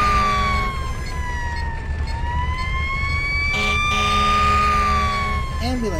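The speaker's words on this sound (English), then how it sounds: "Ambulance, get out of my way." Ambulance siren in the video game GMA Tank Commander, a loud wailing tone that sweeps slowly up and down, with a brief shift into a faster warble near the end.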